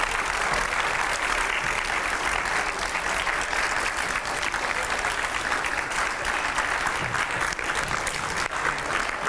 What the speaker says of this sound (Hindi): जोरदार तालियों से स्वागत करिए